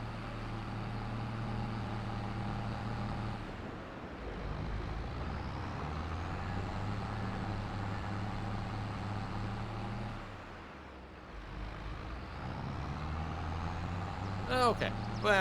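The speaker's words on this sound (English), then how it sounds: "look out for the car. Who is, like, driving right down the middle of the freaking road." A car driving on a road in the Farming Simulator game, a steady engine drone with rising and falling rumble and brief dips, under someone talking, with a few high clicks near the end.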